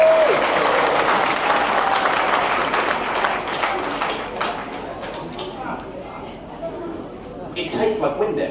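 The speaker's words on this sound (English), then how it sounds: "Give Simon a round of applause" An audience on a cruise ship applauds Simon, a steady clatter of clapping that slowly thins out, with voices talking and cheering over it.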